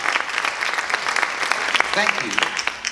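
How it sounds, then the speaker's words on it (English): A science show audience gives a big round of applause, dense close clapping throughout with voices and a brief shout rising over it. "A big applause!"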